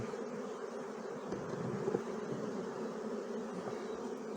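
Honey bees buzzing around an open Ukrainian-frame beehive during a spring frame inspection, a dense, steady drone of many wings close by, with a slight swell midway.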